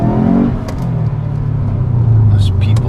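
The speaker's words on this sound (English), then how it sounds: "So revs nice, gets up and goes." A Subaru WRX engine hums steadily at close range, its low drone swelling as it revs, with people talking in the background and a few faint clicks.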